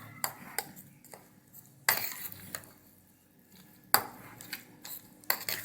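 Bread pudding mixture stirred with milk in a bowl, a spoon scraping and clinking against the sides in irregular strokes, with a few sharper knocks, close and fairly quiet.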